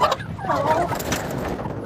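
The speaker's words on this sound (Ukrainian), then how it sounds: "Ось доросла індичка." An adult turkey hen calls in a poultry yard, a brief burst of close gobbling and clucking notes amid other fowl, with a voice faintly in the background.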